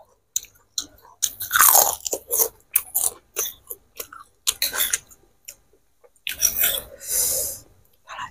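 Crunchy biting and chewing of chili pepper eaten with tahu gejrot, Indonesian fried tofu in spicy sauce, heard close up as a series of sharp crunches and wet mastication with audible breathing between bites.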